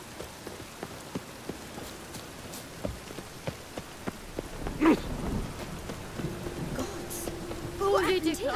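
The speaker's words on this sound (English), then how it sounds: "Rain again." Rain falls in The Witcher 3 video game, a steady patter of drops with sharper ticks, while a voice speaks and a low tone and muffled thunder-like rumbles rise near the end.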